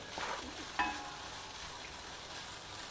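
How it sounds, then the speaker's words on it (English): Coconut rice being stirred in a frying pan, a quiet continuous sizzle with a brief spoon scrape and a single metallic clink against the pan. "The coconut need not get very much browned, but just stir it"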